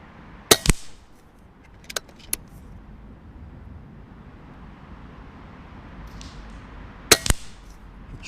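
Umarex Iconix PCP air rifle fired at a target 20 yards away, two sharp cracks about six seconds apart, each with a quick metallic knock and a bit of handling noise, over a steady outdoor background hum.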